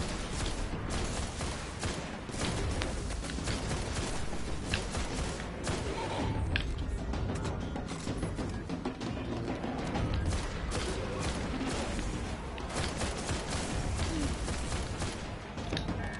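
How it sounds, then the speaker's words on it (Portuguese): Heavy gunfire in the video game Destiny: The Taken King, dense clattering and mechanical rattles with thuds running steadily throughout, loud and continuous with no clear pauses. "Isso foi tiro pra caramba"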